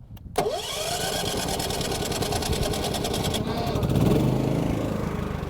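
A Champion 3400 watt dual-fuel generator running on propane catches after a short pull-start rattle and settles into a steady, close, buzzing engine drone that swells slightly near the end.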